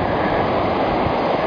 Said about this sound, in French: les vagues sont belles